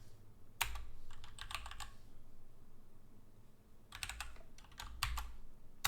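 Someone types on a computer keyboard while coding a Next.js app, with two close bursts of quick key clicks separated by a quiet pause and no talk.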